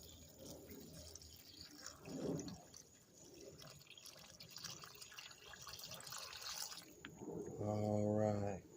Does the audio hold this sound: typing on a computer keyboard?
no